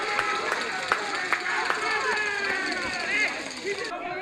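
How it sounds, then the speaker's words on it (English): Crowd at a non-league football match between Bacup Borough and AFC Liverpool applauds a goal, scattered claps and cheers in the open air, with a commentator talking over it throughout. "he deserves all the applause he's getting"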